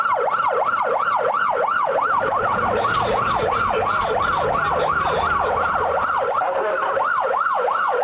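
An ambulance siren wails in a rapid rising-and-falling cycle, loud and sustained through city traffic, with engine rumble underneath.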